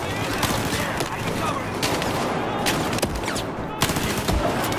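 Rapid automatic gunfire in the video game Battlefield 4, loud sustained bursts with sharp individual shots standing out, heavy and continuous across the scene.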